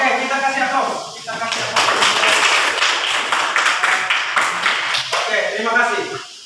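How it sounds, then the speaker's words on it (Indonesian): A classroom of students applauding, a steady burst of hand clapping lasting several seconds, framed by a teacher's voice speaking before and after. "Oke, kita kasih aplaus."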